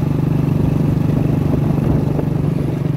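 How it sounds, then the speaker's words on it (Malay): A motorcycle engine runs steadily and close while riding toward a garden and oil palm plot, a loud, even mid-pitched drone with a fast pulsing beat throughout. "Sekarang kita nak pergi kebun naik motor."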